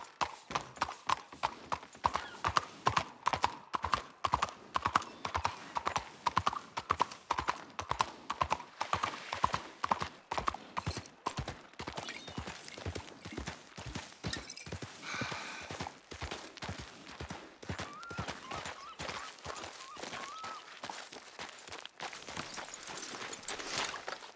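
Horse hooves clip-clop steadily in Red Dead Redemption 2, a fast, even rhythm of close, loud hoofbeats that gradually slow and soften, with no talk over them.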